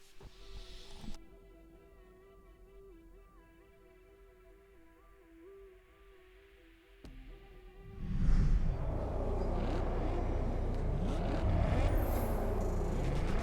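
Racing cars in Test Drive Unlimited Solar Crown: quiet menu music with tones gives way to a loud, sustained engine roar and road noise that builds abruptly and holds steady through the race start, with no talking.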